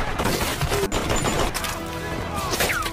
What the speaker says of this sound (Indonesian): para prajurit Amerika langsung memberondongkan tembakan ke arah mereka